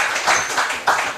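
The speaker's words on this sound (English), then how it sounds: "Round of applause for those," Brief audience applause for sponsors at a tech meetup: a dense, steady patter of many hands clapping, fairly loud, with no voices over it.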